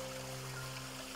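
Spring water flows in a natural water source, a faint continuous stream with a steady low hum beneath.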